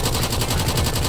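Rapid automatic gunfire in the video game GTA V during a cops and robbers chase, a loud dense continuous burst of shots with no pauses.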